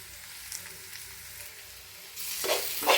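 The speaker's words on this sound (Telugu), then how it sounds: "సో నేను దీన్ని సిమ్లో పెట్టుకునే వేపుతున్నాను" Onions fry on a low flame in a pan for fish curry, a faint, gentle sizzle that swells into louder crackling with stirring toward the end.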